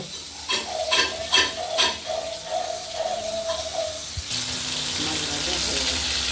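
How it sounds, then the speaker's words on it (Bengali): Pieces of katla fish frying in oil in a pan, a close steady sizzle that intensifies after a brief clatter, with a few soft clicks and a light hum early on. "মাছটা ভাজা হলে কেটে রাখা আলুটা ভাজা করে নেব"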